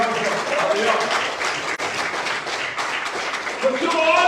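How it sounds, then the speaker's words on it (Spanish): A church congregation claps together during a Sunday morning service, a dense, steady wash of applause mixed with voices that carries on for the whole stretch. "Demos un aplauso a Dios."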